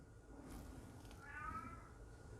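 A cat meows in the background, a faint, drawn-out call somewhere in the room, sitting low under a steady hum.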